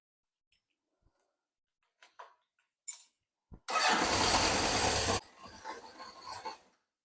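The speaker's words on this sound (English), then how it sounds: "I might run the bike again for another 3 or 4 minutes and then recheck." A 1970s Honda CB750 motorcycle starts up after an oil change. A few quiet clicks and clunks come first, then the engine catches and roars loudly for about a second and a half before dropping into a lower, uneven idle.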